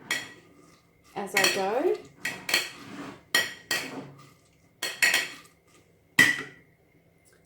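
A potato masher clanks and scrapes against a bowl during sauerkraut making, giving a series of sharp metallic knocks and rattles at irregular intervals, close up, with a brief spoken phrase among them.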